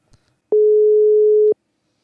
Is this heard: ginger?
no